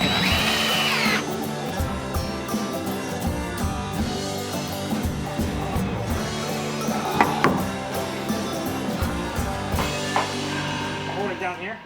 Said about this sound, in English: We then attached that piece to the rest of the table with some pocket screws.